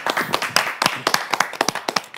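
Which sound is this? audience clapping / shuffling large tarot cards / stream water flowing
audience clapping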